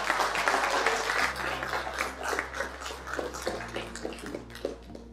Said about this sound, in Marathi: बरं, या जोरदार टाळ्या मला अपेक्षित होत्या.